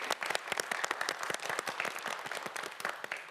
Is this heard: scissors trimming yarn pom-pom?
no